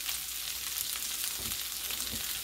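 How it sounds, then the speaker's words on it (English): Butter melts and sizzles in a hot pan before scrambled eggs go in, a steady close crackling hiss with a few soft clinks and stirs underneath. "So I'm going to start my butter melting."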